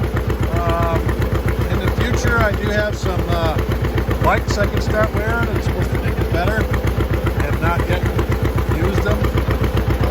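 A tractor engine runs steadily in the background throughout, a loud continuous low throbbing rhythm underneath someone talking close by during hay making.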